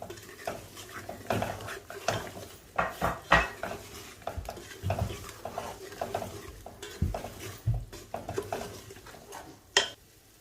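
Soya chunks are tossed with spices in a frying pan, with repeated scraping and clattering of a metal spoon against the pan over a low sizzle, close up and irregular.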